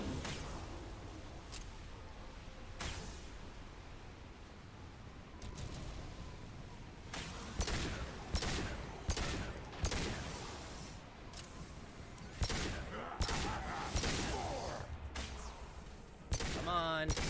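Gunfire in Mass Effect 2: Legendary Edition, sharp bursts and thumping shots scattered through the fight, growing denser and louder toward the end, with a voice talking over parts of it.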